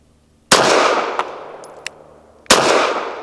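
Two loud, sharp pistol shots from a Ranger Arms RA9 firing Winchester Defense 147 grain ammunition, about two seconds apart, each followed by a long ringing outdoor echo that slowly fades, with small clinks between them.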